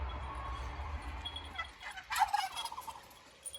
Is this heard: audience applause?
no